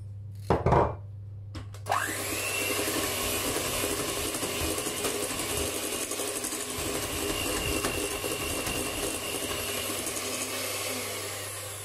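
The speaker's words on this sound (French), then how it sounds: "il faut juste fouetter entre les ingrédients rapide, hein, juste pour intégrer un petit peu" Cupcake batter with melted butter being whisked quickly: after a few sharp knocks comes a close, steady, continuous whirring scrape that runs unbroken to the end, with no talk.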